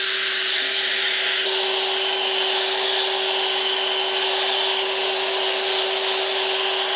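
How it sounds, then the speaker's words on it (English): A drill with a firm pad buffing rubbing compound onto the 1975 Moto Guzzi 850T tank, a loud steady whirring hiss with a constant motor whine throughout. "I'm going to use a drill with a firm pad and some rubbing compound"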